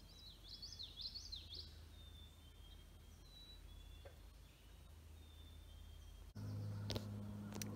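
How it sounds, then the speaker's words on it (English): Birds calling in a wetland at the Forest Reserve at Smallwood, faint warbling chirps at the start over a quiet steady hiss, then a sudden louder low rumble and a few clicks near the end. "you can hear those birds"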